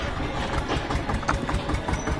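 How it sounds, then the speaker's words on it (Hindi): A parked tractor engine idles steadily nearby, a dense, rough mechanical chug that holds at an even level throughout. "और पीछे जो हमारा ट्रैक्टर है वो खड़ा है,"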